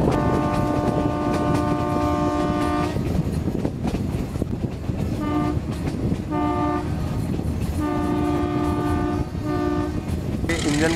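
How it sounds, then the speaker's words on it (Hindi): A meter gauge train engine running on the Mavli–Marwar line in Rajasthan, loud and close: a continuous rumbling chug with repeated blasts of a harmonic horn, one long and then several short bursts. "ये इंजन का साउंड देखें आप,"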